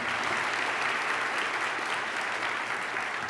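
Audience applause at a mayor's housing levy announcement, steady dense clapping from a crowd filling the whole stretch at even loudness, with no talk over it.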